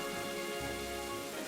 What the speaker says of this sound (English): there's the storm I'm looking for. That's the kind of downpour we like to see